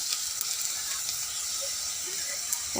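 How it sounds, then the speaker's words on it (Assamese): Spices with a little turmeric frying in hot oil for a fish curry, a steady soft close sizzle and hiss that runs evenly throughout with no talk. "এইখিনি মই অলপ ৰঙচুৱা হোৱালৈকে ভাজিম"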